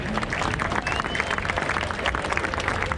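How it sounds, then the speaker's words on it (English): Crowd applause for sponsors at an outdoor Heart Walk charity event in Boston, steady dense clapping mixed with crowd murmur and some voices underneath. "So if we could give a round of applause to the companies, the sponsors, that would be great right now."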